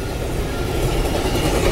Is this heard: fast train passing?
yes